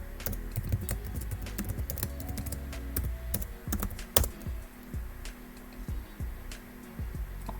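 Keystrokes tapped on a computer keyboard while a password is entered at a Linux install prompt, a steady run of close, crisp clicks with a few louder presses and no talking.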